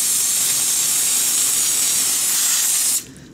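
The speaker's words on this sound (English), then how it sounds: "go ahead and rinse the plant down to get rid of any pests that" Water spray hissing steadily as a plant is rinsed down to wash off pests before moving it from soil to hydroponics, a loud continuous broadband spray lasting about three seconds and then cutting off abruptly.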